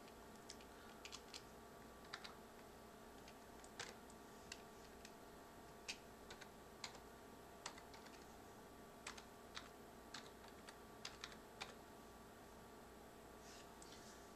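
Someone types on a computer keyboard at an AMD-based system while installing OS X Mavericks: soft, irregular key clicks in short bursts over a quiet room hum, fairly faint and close, with no talk.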